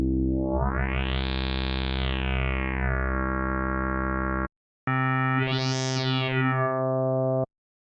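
A crunchy, distorted filter FM synth tone sweeps up and back down, then stops briefly before a second, shorter sweeping note plays.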